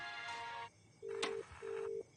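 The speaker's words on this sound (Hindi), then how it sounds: "मैं रायन को कॉल कर रही हूँ, शायद उसे कुछ पता हो।" Telephone call ringing through, a short tone burst followed by two repeated electronic ring pulses separated by silence, clean and close with no voices.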